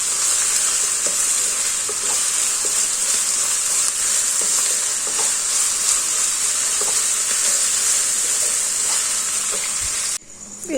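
Onion, capsicum and green chili fry in a pan with a steady, loud sizzle and occasional stirring clinks, continuous for about ten seconds before cutting off abruptly.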